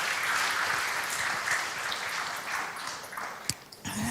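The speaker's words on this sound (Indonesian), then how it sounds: "Tepuk tangan dulu biar aku jangan nangis." Audience applause at a book launch event, a crowd clapping steadily and then thinning out toward the end, with a sharp knock and a brief tonal sound near the close.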